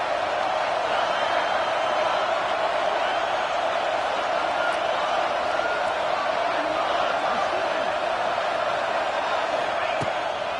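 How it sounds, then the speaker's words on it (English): Dense crowd roar in an NCAA college football video game, a steady loud wash of stadium noise swelling on a third-down defensive stand, continuous throughout with faint shouts on top. "Decibels rising as the crowd gets behind this defense on 3rd down."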